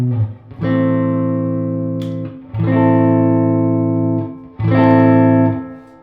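A Fender Broadcaster electric guitar in the middle pickup position rings out three sustained, clean, bright notes or chords, each struck firmly and left to decay before the next, with no talking.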